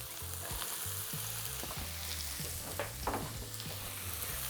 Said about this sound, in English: Now that our pan's nice and hot and the oil's warm, I'm just popping them in.